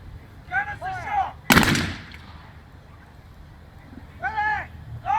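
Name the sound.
cannon firing canister shot at Zulu War re-enactment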